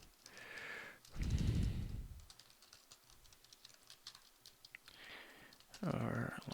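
Computer keyboard typing, light clicking keystrokes in short bursts at a desk, quiet and close, with a louder bump of handling noise and some breathing between bursts.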